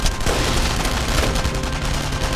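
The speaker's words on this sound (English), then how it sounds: "Oh, is that the flak cannon?" Heavy rapid flak cannon fire from the video game Enemy Front pounds continuously, dense bursts of cannon blasts filling the whole stretch loudly.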